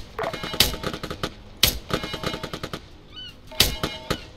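Rifle gunfire in ArmA III, a few sharp loud cracks spaced about a second apart amid rapid lighter clattering shots, close and distinct, with a brief faint whistle between volleys.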